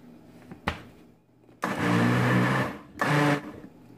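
A blender whirs loudly through a mango popsicle mixture made with milk, first in a short blip, then two sustained bursts of blending separated by a brief pause.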